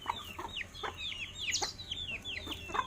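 Chickens on a Bisaya backyard farm, heard as short clucks and chirpy calls repeating in quick, overlapping bursts at close range, with no talking.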